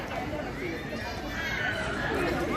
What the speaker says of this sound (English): out here we got a big crowd of people